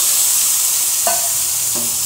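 Fish sizzles loudly in hot oil, a steady close hiss of frying with a couple of brief clinks or taps from utensils partway through.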